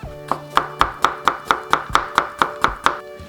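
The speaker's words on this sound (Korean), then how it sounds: "오이도 이렇게 어서 나박하게 썰어주세요." Cucumber being sliced with a knife on a cutting board, about a dozen crisp, evenly spaced chops in a quick steady rhythm, loud and close with no speech.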